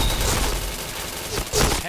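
Rapid gunfire bursts from a shooter video game, dense and continuous across the whole stretch with louder volleys near the end, fairly loud and up close.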